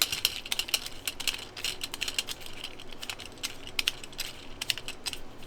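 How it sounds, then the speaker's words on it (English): An adjustable wrench unscrews a fitting on a broken bungee strap, giving a run of small, close metallic clicks and ticks in an irregular rhythm, fairly quiet, with no talking. "Just take my little adjustable wrench on there, unscrew this side here."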